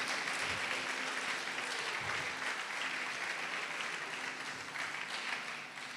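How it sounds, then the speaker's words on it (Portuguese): A church congregation applauds steadily for several seconds, a dense wash of clapping at a constant level, with faint low voices or music underneath. "Pode aplaudir o Senhor e glorificar"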